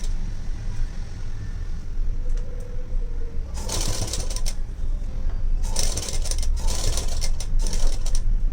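A sewing machine stitches along the edge of a blouse lining. Two bursts of rapid mechanical whirring stand out over a steady low hum, with quieter clicks and handling in between. Nobody speaks.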